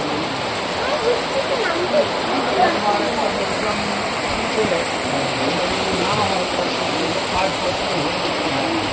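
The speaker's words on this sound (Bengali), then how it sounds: "এত বৃষ্টি হচ্ছে যে আমরা ওইটুকু গাড়ি পর্যন্ত গিয়ে আর বেরোতে পারছি না" Heavy monsoon rain pours down in a forest, a dense, steady roar that stays loud and unbroken with no talk over it.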